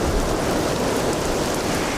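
Steady, dense rain hisses without a break in Witcher 2, a constant full wash of falling water with no voices.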